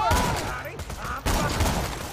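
Rapid gunfire in the video game Borderlands 2, two loud close bursts of shots separated by a brief pause, with game effects around them.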